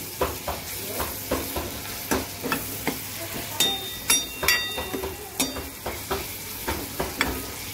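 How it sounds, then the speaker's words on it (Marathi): Sliced bitter gourd (karela) sizzles in a hot pan while being stirred, a steady frying hiss broken by regular scraping strokes and light clinks of the spatula, close and moderately quiet. "कारलं पण चांगलं परतून घेऊया."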